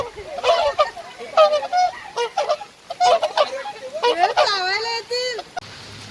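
Swans or geese in a children's play zone honk loudly and close, with a run of repeated nasal calls mixed with children and adults talking nearby.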